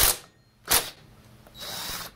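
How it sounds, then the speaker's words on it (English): An impact gun removes the flywheel nut from a McCulloch Eager Beaver Super 2318AV chainsaw, with two short loud whirring bursts followed by a longer, quieter spin-down. "sometimes with an impact gun, if you're lucky, you can cheese it and you can just give it a quick rap and it'll pop right off."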